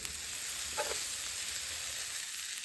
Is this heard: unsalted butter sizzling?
yes